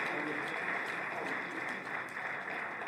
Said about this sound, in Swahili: naomba tupige makofi mengi sana kwa heshimiwa marais wetu